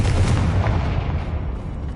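Confringo fire-blast spell going off in the Hogwarts Legacy video game: a dense, loud rumbling blast that roars steadily for about two seconds and eases slightly toward the end, with no voices.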